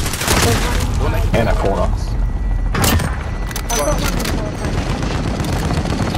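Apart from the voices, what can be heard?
gunfire from a video game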